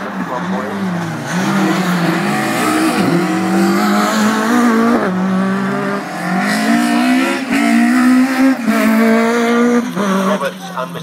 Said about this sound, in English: just pounds it round, a bit of wheel spin off that inside rear wheel